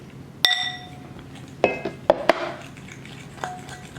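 A metal spoon clinks against a bowl while icing made with powdered sugar is mixed, a handful of sharp ringing taps spaced irregularly over a few seconds, close and clear with a soft scraping between them.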